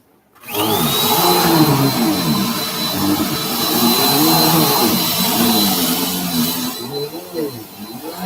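A vacuum cleaner switches on with a sudden roar and runs as a loud, steady whine for several seconds. Its pitch wavers as it moves across the floor, then it eases off near the end.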